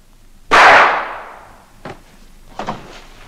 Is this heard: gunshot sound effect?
yes